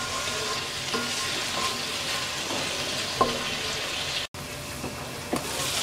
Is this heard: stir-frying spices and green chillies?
yes